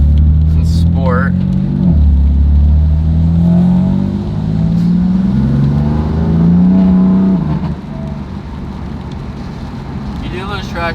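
A BMW F80 M3 engine revs hard with a loud, close exhaust drone that rises and falls in pitch, surging several times before easing to a lower rumble.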